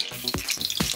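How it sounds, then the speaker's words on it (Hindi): Mustard seeds dropped into hot oil give a brief, close crackle with two soft thumps and quick sputtering pops, all within about a second. "अब मैं सबसे पहले इसमें मस्टर्ड सीड यानी कि राई दाना ये डालूँगी"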